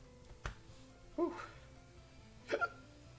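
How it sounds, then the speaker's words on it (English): A streamer's hiccups, a few short abrupt bursts spaced apart, close and fairly quiet against faint game audio during a Clash of Clans war league match. "Oh, I've got the hiccups."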